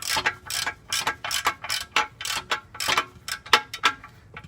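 A socket ratchet loosening a transmission mount bolt on a Jeep ZJ with a 5.2L engine and 46RH transmission, rapid close metallic clicking in quick repeated strokes of several pawl clicks each, loud and without talk.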